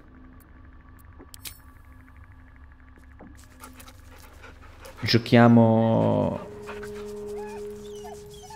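A small dog in Baldur's Gate III pants and whimpers loudly for about a second midway, after quiet game ambience and music, with someone speaking around it.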